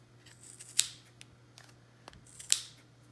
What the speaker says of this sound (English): I'm going to take my scissors right here where there's a seam right in between.